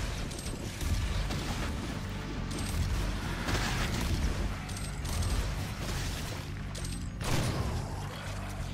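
Shotgun fire in Doom: several loud, booming blasts at irregular intervals over a constant dense rumble of game noise and mechanical clatter.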